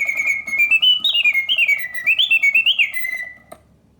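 A mechanical bird in a vintage Karl Griesbaum double singing bird cage warbles in bright, rising and falling whistled trills for about three seconds, then stops abruptly with a faint click.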